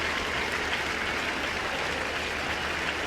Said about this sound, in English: The audience are clapping before she's even finished